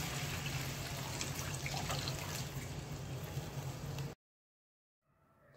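Water poured steadily from a glass into a pan of besan badi curry, a continuous splashing flow that stops abruptly near the end, followed by faint kitchen noise.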